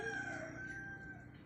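A rooster crows once in a video game, a drawn-out call heard faintly against low background hum.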